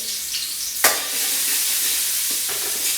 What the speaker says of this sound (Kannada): ಈ ಥರ ಎಣ್ಣೆ ಜೊತೆ ಎಲ್ಲವನ್ನು ಕೂಡ ಫ್ರೈ ಮಾಡೋದು